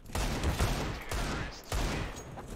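Gunfire in a shooter video game, a few sharp shot bursts with short gaps between them, moderately loud over constant game background noise.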